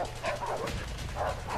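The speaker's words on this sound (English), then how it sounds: "Release the dog." A dog barks and yips in the video game A Way Out, a quick run of several close, sharp barks with whimpering edges over about a second and a half, with no voices.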